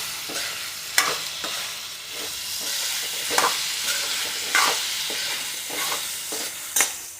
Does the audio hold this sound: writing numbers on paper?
no